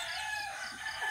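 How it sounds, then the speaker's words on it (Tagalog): A rooster crows from among a flock of backyard chickens, a brief drawn-out call heard over steady outdoor background noise. "Ito yung mga manok ko."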